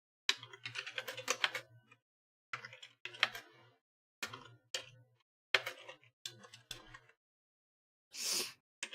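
Bursts of rapid typing on a Bluetooth computer keyboard, close and clear, in several short runs separated by pauses, ending with a brief breathy gasp-like rush of noise.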